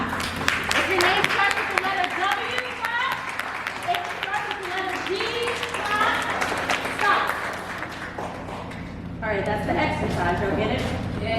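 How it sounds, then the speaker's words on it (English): A room full of people at a brunch event clap steadily and continuously throughout, with a voice talking loudly over the applause. "Yep, keep clapping. Keep clapping."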